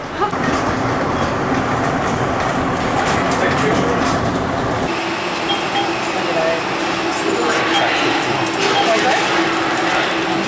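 A train rumbles steadily throughout a ride away from the terminal, with a continuous rolling roar and a shift in tone about halfway through. Voices can be heard faintly beneath the rail noise.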